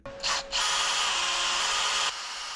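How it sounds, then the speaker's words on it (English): A power drill drilling holes in metal for plug welding on a Ford Transit suspension whines steadily at high pitch after a couple of short starts, loud and close, then cuts off. "Just got to drill some holes in that so that I can plug weld through."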